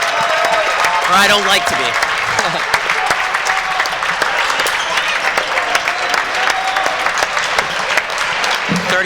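A crowd applauds steadily for the seniors at a college basketball game, Yeshiva versus Old Westbury, sustained clapping filling the gym with an announcer talking over it.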